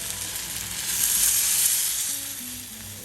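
Steady loud sizzle of eggplant frying in oil for a village-style curry as coconut milk is poured in, the hiss swelling then easing slightly, with no talking.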